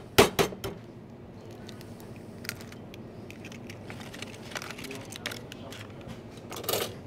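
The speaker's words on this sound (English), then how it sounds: "So just break a couple of eggs" A couple of eggs cracked into a bowl for corn beef fritters: sharp taps near the start, then scattered light clinks of shell against the bowl, ending in a brief rattle.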